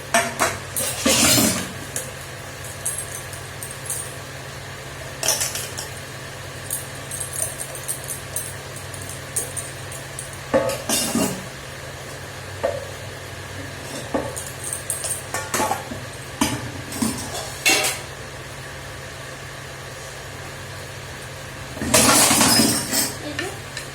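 Utensils and dishes being washed in a home kitchen: scattered clinks and clatters of pots, plates and glass, with splashy bursts near the start, middle and end over a low steady hum.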